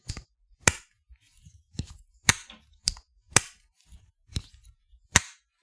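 A titanium slip joint knife, the Urban EDC x Divo Knives Barley, snaps into its half-stop and then fully open, giving crisp, loud metallic clicks in separate pairs with quiet gaps between them.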